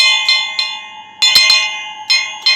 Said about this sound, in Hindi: आपने घंटी तो बहुत देखी होगी